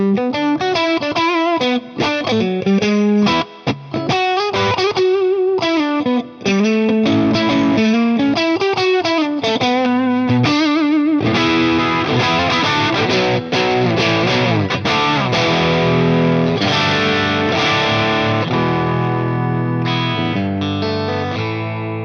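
A high-end S-style Strat electric guitar run through a Wampler Tumnus boost pedal plays a melodic single-note line, then shifts into fuller strummed, slightly driven chords that ring loudly with no talking.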